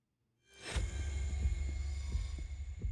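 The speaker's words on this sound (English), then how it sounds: "time stood still with only his rapid heartbeat echoing" A rapid heartbeat echoes in the video game Zenless Zone Zero: low, repeated thumps over a deep, steady hum that starts abruptly after a moment of silence and keeps a quick rhythm, with no talk.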